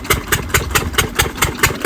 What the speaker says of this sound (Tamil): இப்போ வந்து இந்த இன்ஜின் நல்லா தாங்க ஓடிட்டு இருக்குது.